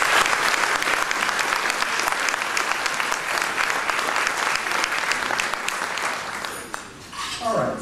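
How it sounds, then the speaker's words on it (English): Sustained, loud applause from a large audience at a faith-based and neighborhood partnerships event, a dense wash of clapping that continues nearly throughout before thinning out near the end. "I think IFI deserves a round of applause for that work"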